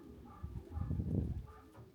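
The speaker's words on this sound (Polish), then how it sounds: "Więc fajnie dzisiaj przylatują te gołębie" Racing pigeons coo softly at a loft at the close of the season, with a faint, low, murmuring warble rising and falling over a couple of seconds.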